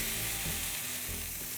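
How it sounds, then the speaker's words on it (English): Smash burger patties sizzling on flour tortillas atop a hot griddle, a loud, continuous close-up frying hiss with no talk. "Listen to that sizzle."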